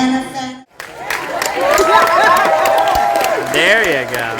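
Applause from a crowd at a fan convention cosplay gathering, a sustained burst of clapping and cheering mixed with chatter and voices nearby.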